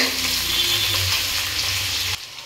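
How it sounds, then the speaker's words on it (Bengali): Chopped onions and green chillies with black cumin (kalonji) sizzle loudly and steadily in hot oil, a dense close frying hiss that continues until it cuts off sharply near the end. "এবার দেব কোচানো পেঁয়াজ আর দেব কেটে রাখা কাঁচা লঙ্কা। এগুলো একটু ভাজা করে নেব।"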